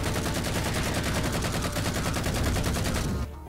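Rapid sustained automatic gunfire in Halo 4, loud and continuous with a steady rattling rhythm, cutting off abruptly near the end.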